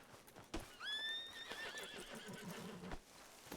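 Horse whinnying in a video game roleplay, a clear rising neigh that holds and trails off over a couple of seconds, loud and close, with a few sharp knocks before and after.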